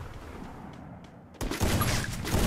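Bursts of gunfire in a friendly custom-room match of a shooting video game, loud and close, with a sharp onset midway and sustained rapid shots after a quieter stretch.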